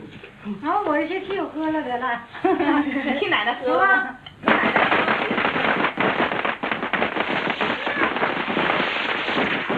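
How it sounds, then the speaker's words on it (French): A person talks for a few seconds, then dense fireworks crackle and pop continuously in rapid bursts, loud and close, filling the rest of the clip. "Les feux d'artifice, qui crépitent toute la nuit"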